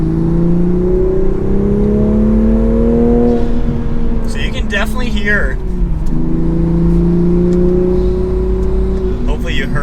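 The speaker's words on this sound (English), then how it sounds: "if I go into sport mode, now the extra sound you're gonna hear is all fake" Toyota Supra in sport mode accelerating, with artificially enhanced engine sound: loud, steady rising drone with a shift dip midway, then climbing again, with someone talking over it.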